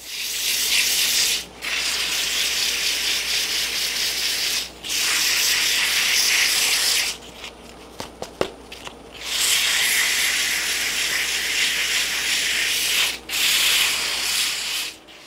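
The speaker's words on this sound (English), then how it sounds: "So let's get to sanding." Steady, loud abrasive hiss of sandpaper rubbing a spinning zebrawood workpiece on a lathe, continuing for long stretches with a few short breaks and a quieter pause in the middle.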